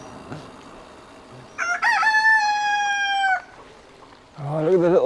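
A rooster crows loudly once in a long drawn-out call, with a fowl clucking or calling after it and faint background noise, heard along a rural route during a bikepacking ride.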